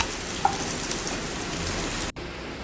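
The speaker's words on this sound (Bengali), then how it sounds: "এবারে প্রথমে আমরা সাদা তেলে কাজু আর কিশমিশটা ভেজে নেব" Cashews and raisins fry in white oil in a Bengali kitchen, a close, steady crackling hiss that drops out for a moment near the end.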